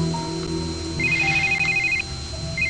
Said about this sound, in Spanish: Tu teléfono.